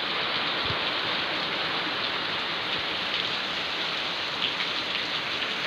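A downpour at a cattle dairy farm in Kathiawad: a thick, unbroken roar of rain striking the ground nearby, with scattered splashy drops and no talking.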